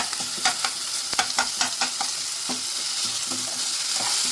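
Cooked mutton keema curry sizzles and fries in a pan, with a series of close spoon scrapes and stirring knocks over a steady frying hiss.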